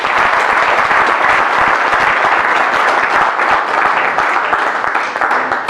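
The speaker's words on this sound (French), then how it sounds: "Je voudrais vous demander de bien vouloir les applaudir." A crowd at a memorial day ceremony honoring President Senghor claps for organising committee members, a loud, steady, dense applause sustained throughout without talk.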